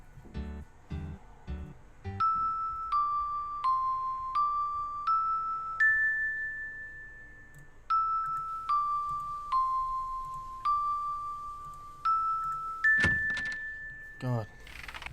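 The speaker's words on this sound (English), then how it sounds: "we gotta do this doorbell crap again" A doorbell in the Quest for Glory: Shadows of Darkness computer game plays a repeated sequence of clear chiming tones in a stepping pattern, with soft clicks before and a brief noisy burst near the end.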